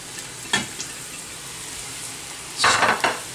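Wild mushrooms sautéing in a pan, a quiet sizzle broken by two bursts of stirring scrapes, the second longer and louder, no talking.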